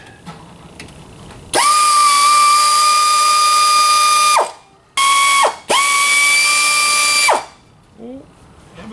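A hand ratchet or power ratchet tightens a bolt under a 1979 AMX car in a garage, giving two long, loud, steady whirring runs separated by a short burst, with a few faint clicks before and after.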